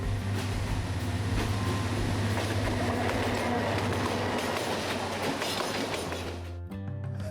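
A train runs from Dhaka to Sylhet with a steady, loud rumble of wheels and carriage noise. Faint rhythmic clatter and hiss fill the whole run before it eases slightly near the end.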